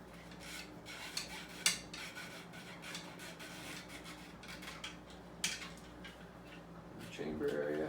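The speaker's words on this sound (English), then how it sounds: "I'm going to take that 45 caliber nylon brush," A 45 caliber nylon brush wrapped in a patch scrubs inside a rifle chamber, quiet repeated rubbing and rasping strokes with occasional small clicks, faint talk in the background.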